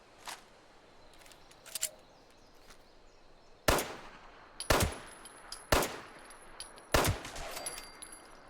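Gunfire in Fallout 76, a few faint early shots followed by four or five sharp, loud single shots spaced about a second apart over quiet ambient noise.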